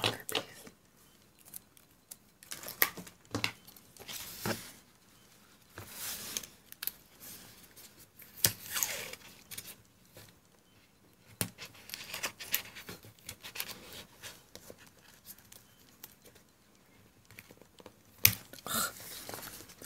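Washi tape pulled and torn from a cheap plastic tape dispenser, giving repeated short crinkly rips and tearing bursts spread through a quiet room, close and moderately loud.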